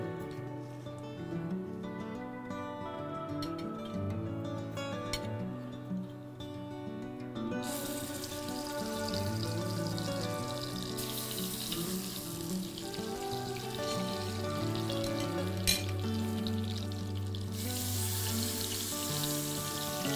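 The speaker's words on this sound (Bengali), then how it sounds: "খুব কড়া করে তো ভাজবে না" Koi fish sizzling as it fries in hot oil in a pan, a steady crackling hiss that grows brighter partway through, heard over continuous background music.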